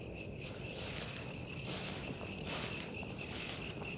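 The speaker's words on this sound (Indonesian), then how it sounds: "Belalang." Belalang kecek grasshoppers chirping in a garden, a dense continuous high buzzing trill with steady pulsing that fills the whole stretch, close and fairly loud, with no speech.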